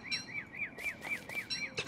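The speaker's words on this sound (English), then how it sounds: "Oh, you stupid bird!" A small bird chirps in Don't Starve Together, a quick evenly spaced series of bright tweets repeating about a dozen times, clear and alone over a soft ambient background.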